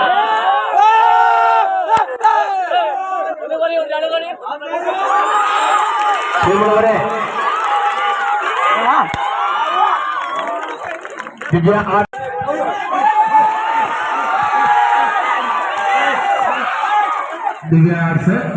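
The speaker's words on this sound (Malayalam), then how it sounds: "നാട്ടിൻപുറങ്ങളിലെ വൈകുന്നേരങ്ങളിൽ എയ്ത്തുകളങ്ങളിലെ ആർപ്പുവിളികൾ ഉയർന്നു കേൾക്കാം" A crowd at a traditional Onam archery game on a village ground in the evening shouts and cheers continuously, a loud, lively roar of many voices with rising whoops and yells throughout.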